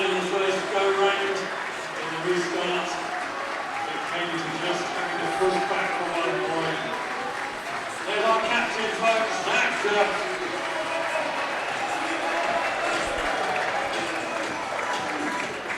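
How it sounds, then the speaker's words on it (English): A speedway crowd at a Poole Pirates meeting cheers and claps after a race point, a broad, swelling roar with applause that rises and falls for several seconds, with a commentator's voice over it. "let's just let you listen to the crowd's reaction to that."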